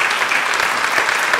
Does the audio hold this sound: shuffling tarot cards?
no